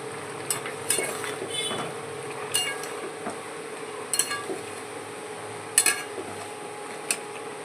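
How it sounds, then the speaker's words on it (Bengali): Meat being sautéed in a pan gives a steady background sizzle, with a metal spatula scraping and clinking against the pan every second or so, close and fairly loud. "মাংসটা কষাচ্ছি"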